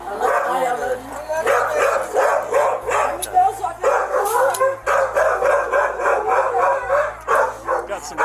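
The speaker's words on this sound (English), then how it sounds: "Got some guard dogs in there." Guard dogs bark, yip and howl continuously in loud, overlapping excited bursts close by, while people talk over the commotion.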